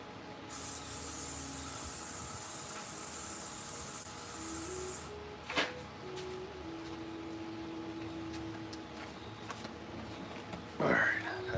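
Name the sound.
spraying an aerosol on legs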